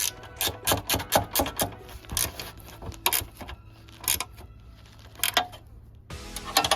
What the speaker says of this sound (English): Then we'll go back through with a 3/8 and tighten the bolts